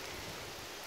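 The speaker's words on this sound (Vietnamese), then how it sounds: "Trời mưa luôn rồi, mới quay ra quay chút xíu à" Rain falling over a Mai flower tree nursery in Bến Tre, Vietnam: a steady, even hiss of rainfall, faint and continuous, with no voices heard.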